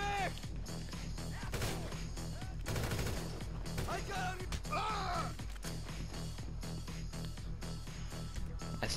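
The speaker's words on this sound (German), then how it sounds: "Von wo kommen die Schüsse denn?" Gunfire crackles in GTA Online, bursts of shots and rapid-fire volleys mixed with crashes and busy game sounds across the stretch.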